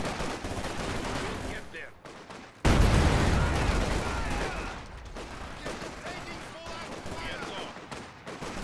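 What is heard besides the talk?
infantry gunfire in video game Company of Heroes 2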